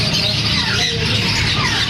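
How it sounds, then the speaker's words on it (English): Many birds squawking and chirping together at the Chatuchak animal market, a dense, busy chorus of calls filling the air at close range without any talk. "Loads of birds."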